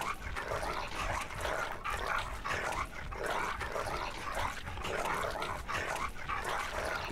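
A dog in the Game of Thrones RPG video game, fighting a man in full plate armor, snarls and yips in a dense, continuous, fairly loud stretch of combat noise with no talking.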